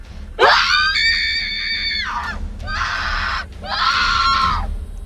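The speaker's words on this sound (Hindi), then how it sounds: "सुष्मिता चिल्लाने लगती है" A woman screams in a Hindi horror story, three long, piercing, sustained cries separated by short breaks, loud and close over a low background rumble.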